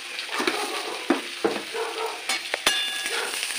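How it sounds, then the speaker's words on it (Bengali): Mixed vegetables with capsicum fry in a pan for sago pilaf. A steady sizzle runs throughout, broken by several sharp scrapes and clatters of stirring. It sounds close and has no talk. "এই সবজিগুলো ভাজা হয়ে গেলে এবার দেখুন আমি কীভাবে করবো।"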